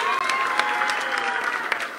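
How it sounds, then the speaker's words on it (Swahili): An audience at a Mt Kenya Foundation leaders' gathering claps for an arriving official, a dense burst of many hands applauding at once, steady and fairly loud, with some crowd murmur underneath. "mpigie makofi tafadhali"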